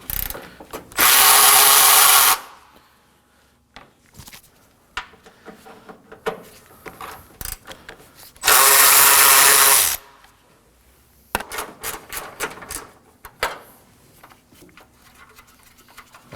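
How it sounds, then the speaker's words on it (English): Ratchet with a 10mm socket loosening bolts on a 2014-2020 Acura MDX, two loud sustained bursts of rapid clicking separated by quieter clinks and handling noises of tools on metal, close by. "we're gonna be removing these 3 10mm bolts using a 10mm socket"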